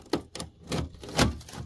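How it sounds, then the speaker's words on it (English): Thin painted sheet metal of a car door crumples and punctures during at-home autobody repair, giving a few sharp crackling snaps and crunches in quick irregular bursts, close up with no talking. "You hear the paint crumple,"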